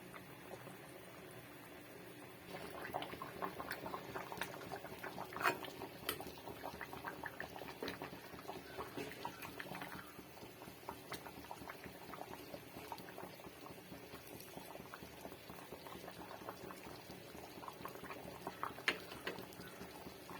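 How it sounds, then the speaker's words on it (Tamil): Fish head curry bubbling steadily in a pot, a soft continuous plopping and simmering close by, with no voices. "குழம்பு நல்லா கொதிச்சிருச்சு"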